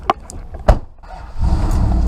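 A work truck with a 5.9 liter Hemi engine starts up: a couple of clicks and a brief crank, then the engine catches and settles into a steady low idle rumble, close and loud.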